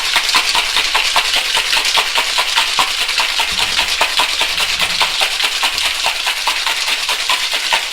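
Gin and ice rattled hard in a cocktail shaker, a fast steady clatter of rapid strokes that runs loud and unbroken the whole time.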